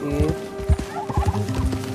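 A turkey in Red Dead Redemption 2 gobbles in a loud, rapid, warbling burst that repeats across the two seconds, close and clear with layered game ambience underneath.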